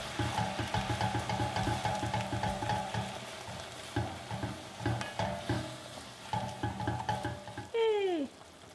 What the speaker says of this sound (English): we want to use a little bit of our broth to get the bits off the bottom